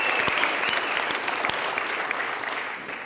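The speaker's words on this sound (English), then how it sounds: "Give yourselves a round of applause." An audience in a packed hall gives itself a round of applause, continuous close clapping that holds steady and eases slightly toward the end.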